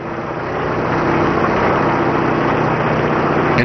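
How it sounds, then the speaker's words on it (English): An oil well drill rig bores through caprock toward the target zone, producing a steady, dense mechanical rumble and grinding roar that holds constant and fairly loud for the whole stretch, with no voices. "As the drill bites through the caprock and approaches the target zone"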